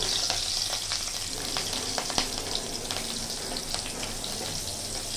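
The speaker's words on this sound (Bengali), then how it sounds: "ওই তেলের মধ্যে আমি দুটো কাঁচা লঙ্কাকে ভেজে নেব।" Two green chillies fry in hot oil left over from frying fish, a steady close sizzle with scattered pops and crackles running throughout, no voices.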